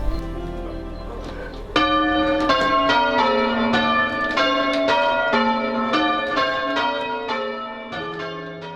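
Church bells ring out at a restored parish church in West Hanningfield after a blessing with holy water, a loud, steady peal of overlapping struck tones that begins a couple of seconds in and carries on without pause.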